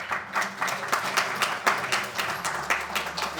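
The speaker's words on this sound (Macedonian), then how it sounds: "уште еден аплауз" Audience applause at a karate awards ceremony, steady clapping from a crowd with rhythmic peaks lasting throughout, fairly close and sustained.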